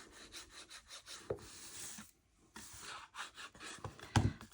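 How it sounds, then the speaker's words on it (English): A bone folder rubs firmly down along a paper pocket tag in close, repeated strokes, with a brief pause midway and a heavier press near the end. "go on the inside with your bone folder so that you can really rub that down"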